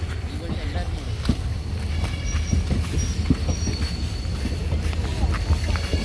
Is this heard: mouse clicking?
no